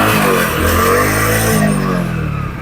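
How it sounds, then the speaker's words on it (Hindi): A Honda SP 125 motorcycle engine revs steadily close by, a mid-pitched throaty drone that rises and holds with slight pitch shifts, loud and continuous without talk. "तो इंजन है पूरा साइलेंट किलर तो नहीं है, थोड़ा साउंड तो करता है।"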